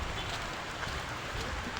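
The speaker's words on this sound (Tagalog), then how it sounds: "I-enjoy ang ulan." Steady rain patters all around with a soft, even hiss, no voices, and no distinct drops standing out.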